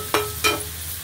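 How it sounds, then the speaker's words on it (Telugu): Onions frying in a pan for Andhra-style egg curry, two short bursts of stirring and sizzle over a steady low hum, close and fairly quiet. "గోల్డిష్ రంగు వచ్చే వరకు వేయించాలి."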